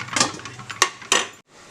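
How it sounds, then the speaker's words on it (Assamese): A metal lid clatters onto a frying pan of bamboo shoot curry, giving a few sharp, close clanks and scrapes in quick succession, then quiet, with no voices. "মই ঢাকনা দি দিছোঁ অকণমান"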